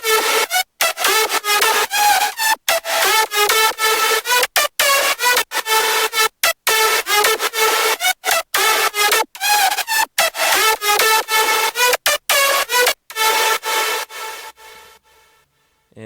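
A layered, distorted synth lead with a white-noise layer buzzes through a fast, choppy pattern of stuttering notes, dense and bright, chopped by brief gaps and fading out near the end with no voices.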